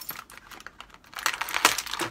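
Scissors cutting a Rise of the Teenage Mutant Ninja Turtles action figure out of its plastic packaging, a close run of crisp snips and crinkling plastic that grows busier and louder toward the end, with no voice.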